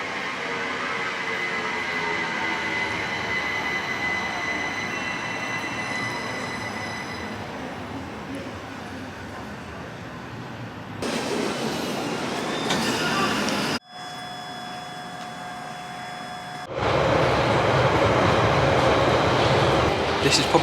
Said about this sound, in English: I can see the Bakerloo line train just pulled in on the other platform, just gone there, and it's just going to reverse back in here